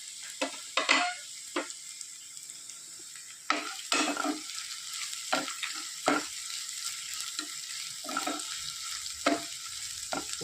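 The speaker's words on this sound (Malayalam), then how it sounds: "ഉള്ളിയൊക്കെ നന്നായിട്ട് വഴന്ന് വരാൻ തുടങ്ങിയിട്ടുണ്ട്." Sliced onions sautéing in a pan for a Kerala drumstick leaf dal curry with ground coconut: a steady, close sizzle broken by repeated scrapes and stirring clinks of a spoon against the pan.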